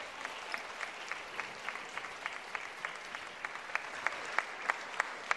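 An audience at a sports awards ceremony applauding, a soft, distant wash of many hands with a steadier rhythmic clap pulsing through it, continuing evenly throughout with no talking.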